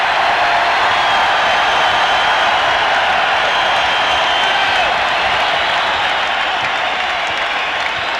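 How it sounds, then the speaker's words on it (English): A basketball arena crowd cheers and applauds at a Rockets vs Suns playoff game in Houston in 1994, a dense, loud, sustained roar that holds steady with no clear speech. "Listen to this crowd. They're up on their feet."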